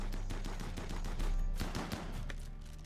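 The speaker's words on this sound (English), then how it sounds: "Gotta love those chain shotguns." Rapid automatic chain shotgun fire in the RimWorld colony game, a dense, continuous burst of loud overlapping blasts with no pauses, heard alone without talk.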